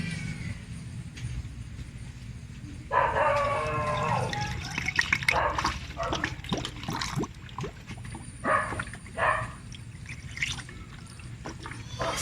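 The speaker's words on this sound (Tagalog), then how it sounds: "Hanggang sa mapuno, distilled water ilalagay natin." Distilled water is poured into the cooling system of a DA64W Suzuki Every Wagon during a coolant flush, a steady close liquid splashing and trickling that starts a few seconds in, with a few faint drips and knocks over a low background hum.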